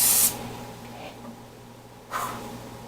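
Short bursts of cooking spray hit a baking pan for dessert making: one loud hiss at the start, a faint puff around the middle, and another hiss near the end, each a brief close spray with quiet room tone between.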